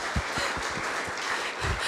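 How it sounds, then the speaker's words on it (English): Applause from a community audience at a public safety meeting, a dense broadband patter of many hands at moderate distance with a few low thumps mixed in. "let's give him a round of applause too."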